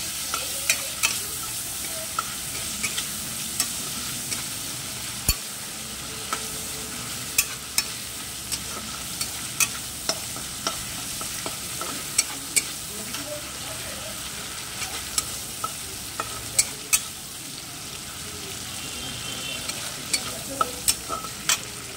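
Food fries in a pan with a constant, close sizzle, broken by frequent sharp clicks and taps of a spatula stirring against the pan throughout a long stretch, with no speech.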